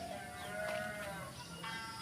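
Garut sheep in a West Javanese village give a few wavering, drawn-out bleats, faint and somewhat distant over a steady outdoor hum.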